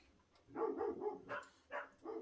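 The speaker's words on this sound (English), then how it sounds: "Oh, I got to bring those dogs in. They're making such a racket." Several dogs bark outdoors in a few short bursts, somewhat distant and fairly faint, with no talking.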